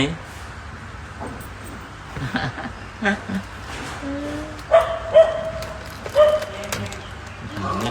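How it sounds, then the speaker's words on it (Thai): Several sharp dog barks in a loose cluster amid background chatter and people talking, the barks standing out near the middle. "หมามันเห่า"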